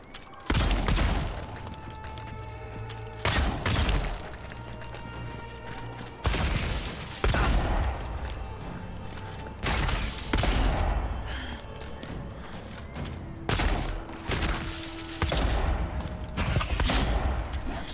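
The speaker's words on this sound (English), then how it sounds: "I'm so tired from shooting these guns." Bursts of gunfire in the fantasy video game Avowed, loud repeated volleys of shots separated by short pauses with booming impacts, carrying on over several bursts with almost no talking.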